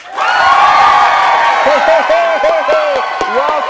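Holiday studio audience cheering and applauding loudly at the opening of a comedy show, a dense sustained roar with whoops, and a voice talking over it as the clapping goes on.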